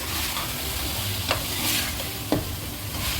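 Chopped tomatoes and green chillies are stirred into goat liver masala frying in a pan, with a steady close sizzle and two sharp spoon scrapes against the pan, and no talking.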